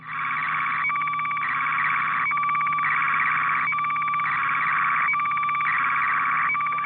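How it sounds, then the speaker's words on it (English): A slow-scan television picture signal received over shortwave warbles as a steady high tone, broken by regular short sync pulses roughly every second, even and unbroken throughout with no voices. "This is the sound of one of those pictures building up."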